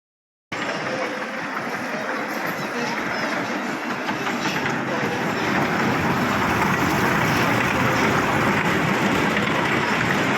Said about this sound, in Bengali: এইখানে সবাই টয় ট্রেন চলছে